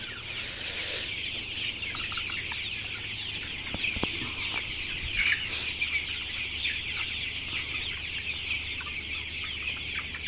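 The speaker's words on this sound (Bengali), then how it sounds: "তো এখানে 1500 মুরগি আছে, দেখতে পারতেছেন।" A large flock of about 1500 color bat broiler chickens, 31 days old, clucks and chirps steadily in a farm shed, a busy continuous chorus from many birds with no talking.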